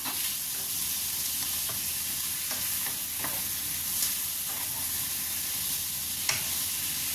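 Baby octopus sautéing in a hot pan with black pepper, a steady close sizzle with soft scrapes and clicks as it is stirred, and no talking.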